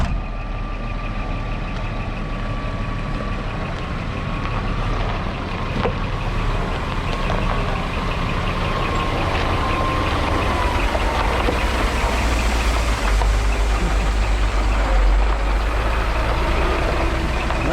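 A semi truck idles with a heavy, steady low rumble while a reversing alarm beeps at a regular pace, the diesel throb loud and continuous throughout.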